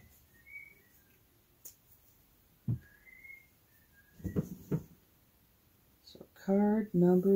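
Pet bird whistling a learned household tune indoors: faint scattered chirps and whistles early on, then a louder run of clear, rising whistled notes near the end, with some soft bumps and voices between.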